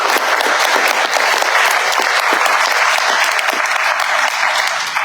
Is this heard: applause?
yes